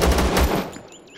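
A quick burst of assault rifle fire in the survival shooter Zero Sievert, several loud, close shots in rapid succession followed by a fading tail.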